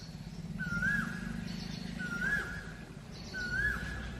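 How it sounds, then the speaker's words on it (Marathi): Asian koel calling in the morning: three evenly spaced, clear rising whistled calls, moderately distant, over a steady low background hum. "तो बघा ऐका कोकिळाचा आवाज सकाळी सकाळी"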